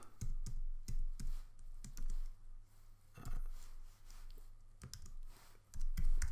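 Text is typed on a computer keyboard while editing in Photoshop, with close, soft key clicks in short irregular bursts and brief gaps between them.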